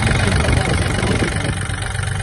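A Japanese Yanmar AF-24 mini tractor engine idles steadily at close range, a dense even mechanical hum that holds without a break, with someone talking over it.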